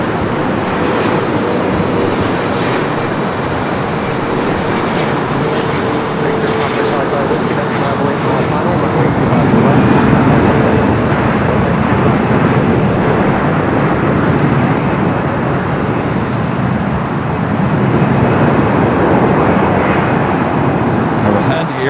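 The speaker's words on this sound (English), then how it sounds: "Turkish, coming in from Istanbul, the 777-300ER" A Turkish Airlines Boeing 777-300ER arriving from Istanbul at Los Angeles airport produces a broad, loud jet roar that swells and holds, with a person talking over it.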